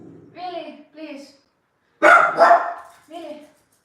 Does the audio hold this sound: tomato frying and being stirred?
no